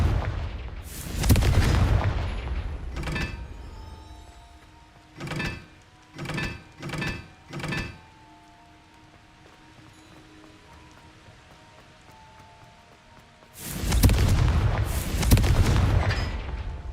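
Blasting-spell explosions from the Hogwarts Legacy video game: a heavy booming burst, a quick run of four short sharp blasts, then another long rumbling explosion near the end, with quiet ambient game sound in between.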